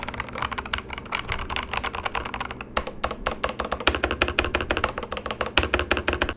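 Dense, rapid clacking of a Machenike KT68 mechanical keyboard, steady and close, with a few louder key strikes toward the end.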